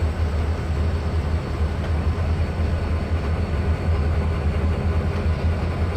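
Freight trains roll along open track in the Trainz 2019 railway simulator, giving a continuous heavy low rumble and steady drone with no breaks.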